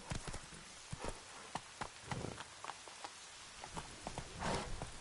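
Hoofbeats of Roach, Geralt's horse, in The Witcher 3, thudding in an uneven clip-clop rhythm at moderate distance with soft background ambience, no talking.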